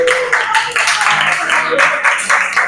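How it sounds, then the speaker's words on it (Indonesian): A class of eighth-grade students in a school classroom claps for a classmate, a short burst of dense, close applause lasting a couple of seconds with a voice faintly heard underneath. "Tepuk tangan lagi buat Farid."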